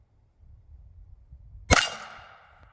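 A .45 Schofield revolver fires a single sharp shot after a low rumbling lead-in, followed by a short ringing decay, loud and close.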